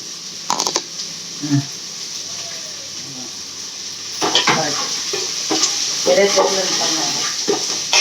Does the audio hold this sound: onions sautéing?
yes